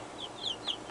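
A broody Leghorn hen and other chickens give a few short, fairly faint clucks in quick succession over a soft background hiss.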